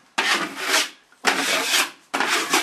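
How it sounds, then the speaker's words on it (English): A wide drywall knife scrapes across dried joint compound on a sheetrock patch in three close, rasping strokes, each about a second long, separated by brief pauses. "Just scrape across it."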